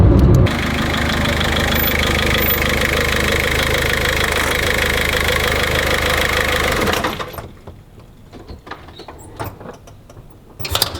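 A car engine runs steadily while driving at night, a loud continuous drone with a dense low rumble for about seven seconds before dropping away to a quiet background with faint scattered knocks.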